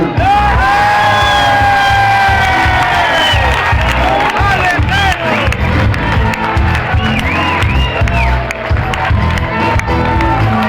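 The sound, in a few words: concert audience applauding and cheering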